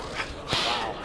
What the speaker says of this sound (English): starting to hear those punches connect